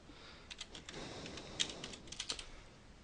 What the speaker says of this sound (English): Type in your account name,